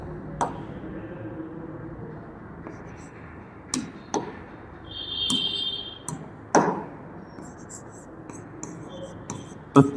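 Pen writing notes by hand during a Hindi grammar lesson, soft scratching strokes with scattered taps, faint and close under a man's speech.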